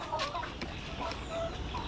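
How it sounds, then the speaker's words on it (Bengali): Tiger-breed chickens on a poultry farm cluck in short, scattered calls at close range over a low steady background, a few overlapping birds heard briefly. "চলেন আমরা আপনার মুরগিগুলো একটু দেখি"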